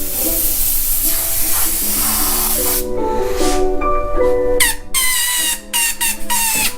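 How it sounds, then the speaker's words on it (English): An airbrush sprays paint onto a T-shirt in hissing bursts that carry whistling, squeaky tones of shifting pitch, close and fairly loud, with brief gaps between sprays. "You guys didn't know airbrushing was an instrument as well,"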